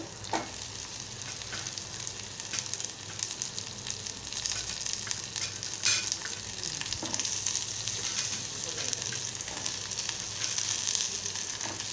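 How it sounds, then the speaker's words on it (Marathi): Red pumpkin being stir-fried with onion and chilli, a steady close sizzle with scattered scraping and stirring clicks throughout, no talking. "आता लाल भोपळा घालत आहे आणि आपण व्यवस्थित असं परतून घेणार आहोत"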